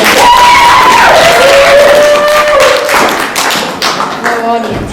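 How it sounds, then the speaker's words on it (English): An audience at a school play about ancient Mesopotamia claps for the teachers, a loud close burst of applause with mixed voices and ringing tones over it before it fades near the end. "How about one more round of applause for all the teachers?"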